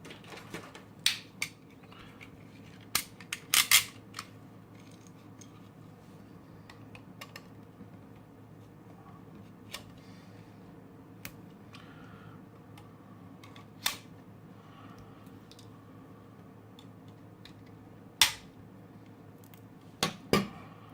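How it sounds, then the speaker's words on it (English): A knife prying open the plastic battery casing of a 50-LED solar Christmas decoration: sparse, sharp clicks and snaps scattered over a quiet background, a few in a quick cluster, others isolated seconds apart. "I'm really curious what's inside of this battery. So I'm gonna crack it open."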